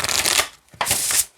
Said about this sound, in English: Usually when I shuffle bigger decks, or bigger size cards, I should say, I split them in half.